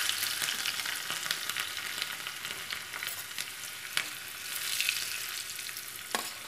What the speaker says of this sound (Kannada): ಬೆಳ್ಳುಳ್ಳಿ ಹಾಕ್ಕೊಂಬಿಡೋಣ ಫಸ್ಟ್